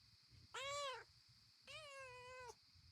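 A cat in the video game Pentiment meows twice, close and clear, the first call short and rising, the second longer and drawn out, over a quiet, pulsing background.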